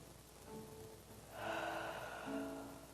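Deep breath drawn in during a guided meditation at a spiritual center, a soft, airy inhale that swells and fades, quiet and close with no talk over it.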